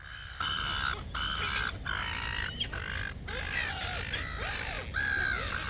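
A flock of birds being fed in Parramatta Park squawks and chatters almost continuously, harsh overlapping calls close by over steady outdoor background noise.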